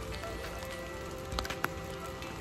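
Rain patters steadily on surfaces during a coastal hike in Cape to Cape, Western Australia, a dense close hiss with a few sharper drops landing nearby, and no voices.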